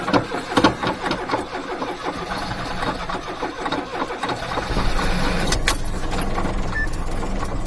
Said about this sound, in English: Good cold start